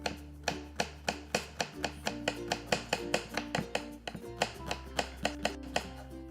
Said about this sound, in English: Now I'm also going to use a little bit of the white of that spring onion